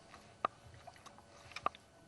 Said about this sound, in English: and you push the purge valve 5 to 6 times